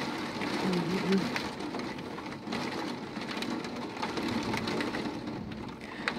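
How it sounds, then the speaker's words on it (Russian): Heavy rain pours down steadily during a strong thunderstorm in Edmonton, a dense continuous hiss of drops pounding surfaces close by, with no voices. "Вот это ливень."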